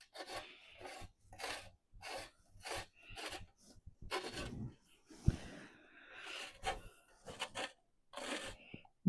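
A fresh lemon scraped against a zester in a home kitchen, repeated short rasping strokes in an uneven rhythm, close and fairly soft, with a few breathy sounds between them.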